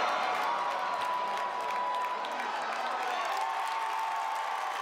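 Stadium crowd roaring and cheering at an NCAA regional softball game, a steady dense wall of cheers and applause from a large audience filling the whole stretch, with no break or quiet moment.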